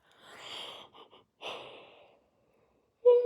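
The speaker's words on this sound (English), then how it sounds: "I needed to yawn" One drawn-out human yawn: a long breathy inhale swelling then easing into a softer exhale, followed by a pause before a voice begins speaking.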